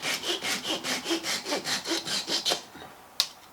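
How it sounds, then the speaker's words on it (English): A hand saw cuts a broken wooden dowel flush on an antique oak dining table in quick, even back-and-forth strokes, then stops; a single sharp knock follows. "the first step in repairing this broken dowel is to cut it out flush."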